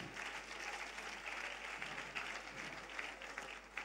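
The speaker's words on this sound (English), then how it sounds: "Please put your hands together." An audience claps after a doctor finishes a health and wealth talk, a thin, uneven patter of hands heard from afar, quiet and steady.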